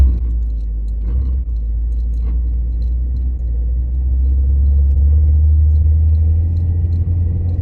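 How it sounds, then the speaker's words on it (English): A car struggling for traction in snow during a Texas winter storm, its engine droning in a steady low rumble that rises slightly toward the end, heard close up without talk. "I was getting no traction there, but that's okay."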